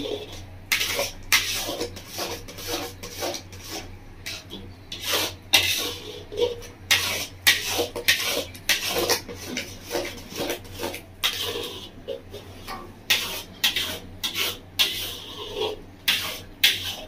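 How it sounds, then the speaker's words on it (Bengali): Metal spoon stirring ripe mango into kheer in a pot, steady scraping and clinking strokes against the pan repeating in an irregular rhythm, close and fairly quiet, with no talking. "এভাবে আস্তে আস্তে কেটে দিন, নাড়িয়ে মিশিয়ে নেব"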